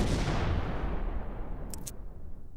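A missile warhead detonates meters from an aircraft cockpit: one loud, broadband blast that rolls into a long, decaying rumble over about two seconds. No voices.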